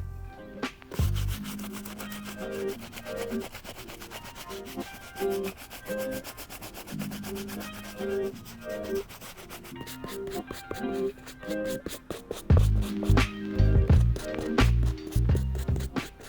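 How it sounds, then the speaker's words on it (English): Medium bristle brush scrubbing the leather uppers of a Nike Air Max 1 sneaker, rhythmic bristly rubbing strokes that grow louder and busier toward the end. "Next brush we're going to be using is our medium bristle brush. We're going to use this brush for certain areas on the uppers like the leather and the midsoles."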